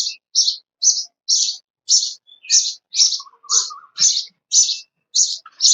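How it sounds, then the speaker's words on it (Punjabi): Sparrows chirp in a quick, steady series of bright, short calls, about a dozen in a row, close and clear against an otherwise silent background. "ਉਧਰੋਂ ਚਿੜੀਆਂ ਨੇ ਲਾਈ ਹੈ ਚੀਂ ਚੀਂ"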